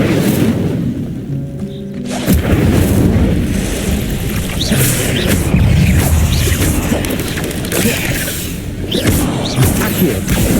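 The Incendio fire spell in Hogwarts Legacy bursts out as a loud, rumbling whoosh of flame that roars steadily with crackling, boom-like surges amid ongoing game action.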